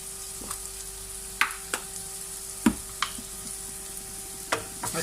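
Chicken shawarma filling cooking in a pan just after ketchup goes in: a low steady sizzle with several sharp spoon-against-pan clicks and scrapes spaced irregularly as it is stirred, close and fairly quiet.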